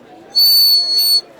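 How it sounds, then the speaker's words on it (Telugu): A plastic toy bird whistle blown dry, without water, gives a shrill, steady, pure-toned whistle. It comes in two quick close blasts with a brief dip between, loud and alone. "ఇప్పటిదాకానేమో నీళ్ళు లేకుండా విజిల్ కొట్టినా కదా."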